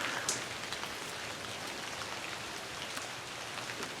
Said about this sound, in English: It's raining heavier.